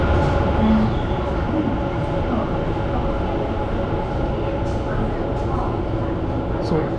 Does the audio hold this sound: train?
yes